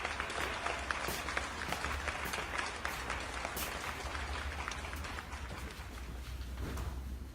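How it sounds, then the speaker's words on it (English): An audience applauds steadily throughout, a dense wash of clapping heard at a moderate distance that stays even, with no speech over it. "Also, give Nick a big applause"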